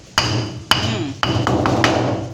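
Several sharp wooden thuds land at irregular intervals, close and loud, as a red snapper is pounded with a wooden stick while being cleaned.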